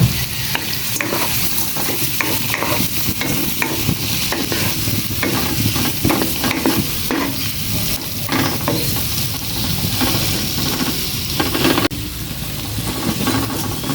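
Shrimp sizzle and crackle in a hot pan with garlic, chili and onion, with steady loud frying hiss and repeated scraping stirs throughout.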